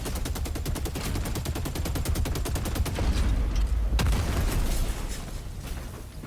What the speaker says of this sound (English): There's an autocannon here,